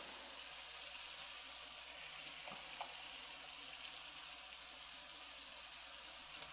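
Shrimp sizzle in a pan, seasoned with salt and pepper, a soft, steady frying hiss at low level with a few faint clicks and no talking.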